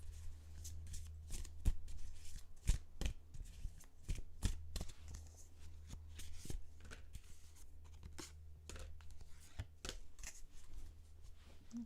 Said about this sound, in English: I'm just going to do 3 cards.